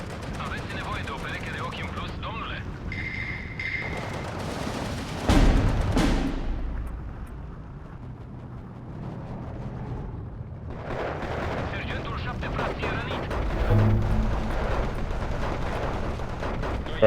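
Artillery and 88 flak guns fire in a large-scale battle in the World War II strategy game Steel Division 2, with a loud blast near the midpoint among rumbling background gunfire and another burst later.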